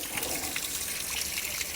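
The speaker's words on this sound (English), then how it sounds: "once I'm done here emptying the water" Water drains steadily from the water heater tank of a Sabre fifth wheel RV being winterized, a continuous close hissing trickle and gush with no pauses and no talking.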